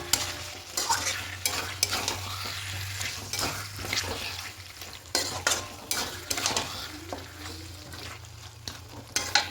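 Chicken kosha with sugar being stirred in a pan, steady sizzling broken by repeated scraping and clinks of the spoon against the metal, with a low hum behind.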